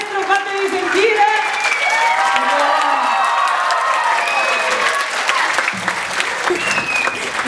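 Lively audience applause with some cheering voices mixed in, continuous and fairly loud throughout.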